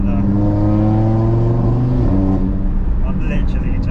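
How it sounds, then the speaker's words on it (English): Audi TT RS with an APR Stage 2 tuned five-cylinder engine, about 540 bhp, held at a steady low-throttle drone with rich harmonics that shift and drop around midway, as after a small throttle change or downshift; loud and close, with a voice present. "let's get a little cheeky listen to that 5-cylinder"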